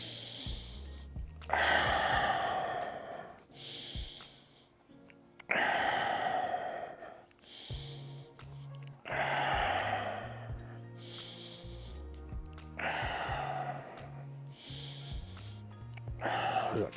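Steady exercise breathing during a full-body mobility routine: loud, close inhales and exhales alternate in a slow, regular rhythm, each breath a long airy rush, with short quiet gaps and low murmurs between them.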